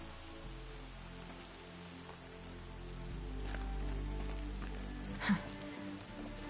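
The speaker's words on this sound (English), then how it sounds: "Rain's not so bad." Steady rain in the video game Horizon Zero Dawn patters across a surface in a continuous wash, with a low rumble underneath and a brief sharper knock near the end.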